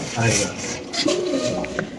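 Fancy Gola pigeons at a pigeon farm coo in soft, throaty bursts close by, with voices talking faintly underneath.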